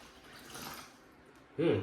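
Water poured from an 8-ounce bottle into the tank of a Prime Connect personal USB misting fan, a soft trickle building into a brief louder splash near the end.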